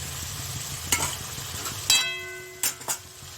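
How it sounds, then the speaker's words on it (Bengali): Chicken and potatoes being stir-fried in a pan for murg badam, a steady sizzle with a few sharp spoon scrapes and clinks against the pan, no voices. "মাংসটা কষা হয়ে গেছে, এবার আলুগুলো দিয়ে কষে নেব, আর একটুখানি কষে নেব।"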